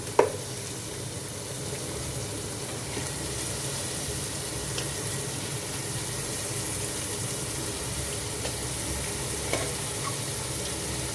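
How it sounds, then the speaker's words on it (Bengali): Beef pieces fry in a pan for a papaya beef curry, a steady broadband sizzle running throughout with occasional soft clinks and stirring scrapes. "এখন দিয়ে দিব মাংসটা"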